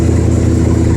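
A cold Ford engine fitted with a rebuilt Autolite 4100 carburetor runs under throttle, a loud, close, dense engine roar held steady across the brief moment, with no voices.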